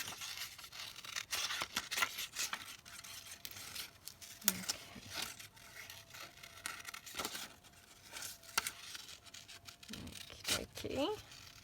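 Scissors snipping paper for a junk journal, quiet close cuts coming in irregular bursts alongside paper rustling and crinkling, with someone talking in between.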